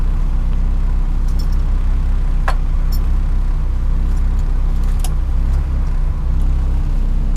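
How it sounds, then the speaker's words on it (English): A Ford Escort engine idles roughly and misfires, a loud, close, uneven rumble with faint clicks and rattles running throughout. "That idle is really rough. I feel like it definitely sounds like it's misfiring."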